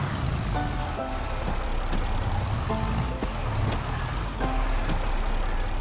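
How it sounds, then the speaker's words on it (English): A tractor drives in the Farming Simulator 22 game, its engine a loud steady rumble throughout, with repeated electronic beeps sounding in regular bursts over it. "I'm gonna just pull the tractor over here."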